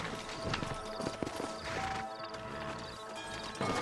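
Hooves clatter irregularly from horses in a Western video game, fairly faint and uneven, with a few sharper knocks and a steady tonal background.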